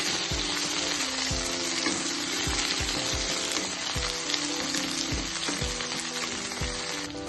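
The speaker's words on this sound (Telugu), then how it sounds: "కొద్దిగా అల్లం ముక్కలు, 10 వెల్లుల్లి రెబ్బలు వేసి ఇవి కూడా వేయించేసుకోవాలి" Ginger pieces and garlic cloves frying in hot oil in a pan for an egg masala, a loud, steady close sizzle with regular low knocks of a spoon stirring against the pan throughout.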